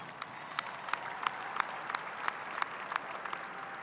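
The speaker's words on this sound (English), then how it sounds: "Let's give them a big round of applause." A University of Phoenix commencement crowd gives a sustained round of applause, the broad wash of many hands punctuated by a few sharp, close claps at regular intervals.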